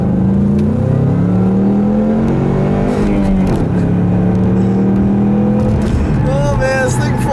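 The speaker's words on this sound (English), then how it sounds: "I'll leave you guys with a nice little acceleration here" A Ford Mustang with stock power accelerates hard through a second gear roll, its engine note climbing steadily and loudly for several seconds, dipping briefly around a shift-like pause before rising again, with a faint tonal whine near the end.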